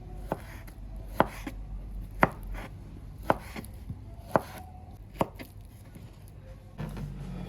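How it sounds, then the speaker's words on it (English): A knife chops through a whole plantain on a cutting board, with seven sharp, evenly spaced strikes about a second apart. The cuts sound close and crisp over a quiet background. "we cut this whole plantain together"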